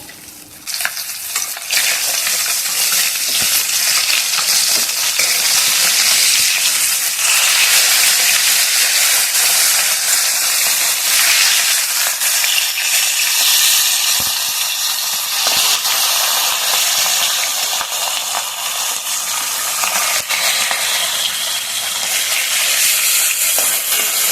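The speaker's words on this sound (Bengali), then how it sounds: "আর একদিকে কিন্তু মাছ ভাজা হচ্ছে" Pieces of katla fish fry in hot oil in a pan, a loud, continuous crackling sizzle with steady hiss and a few scattered pops throughout, with no one speaking.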